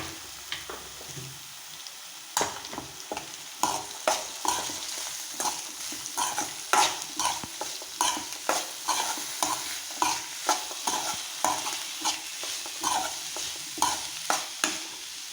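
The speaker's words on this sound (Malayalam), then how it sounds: "നമുക്ക് പാവയ്ക്ക ഇട്ട് കൊടുക്കാം പാകത്തിന് ഉപ്പിട്ട് കൊടുക്കാം എന്നിട്ട് നന്നായിട്ട് മിക്സ് ചെയ്തെടുക്കാം" Sliced bitter gourd with salt is mixed in a hot pan for thoran, a regular series of close scraping spatula strokes over a low sizzle, steady throughout.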